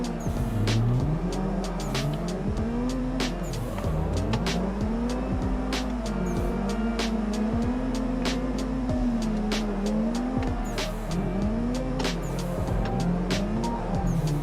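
A car engine in the Assetto Corsa driving simulator revs steadily and loudly, its pitch rising and falling in repeated waves through gear shifts during a drift session, with occasional sharp clicks and tire squeal.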